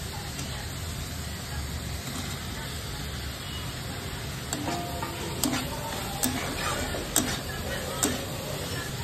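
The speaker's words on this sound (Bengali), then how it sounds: "সবজিটা খুব সুন্দর করে ফ্রাই হয়ে গিয়েছে" Chopped vegetables with capsicum fry in a pan, a steady soft sizzle throughout with occasional scraping stirs and clicks of a utensil, while someone talks over it.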